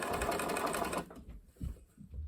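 A domestic sewing machine stitches along the collar seam of a doll's school dress, running steadily at close range for about a second before stopping, followed by soft, quiet handling sounds.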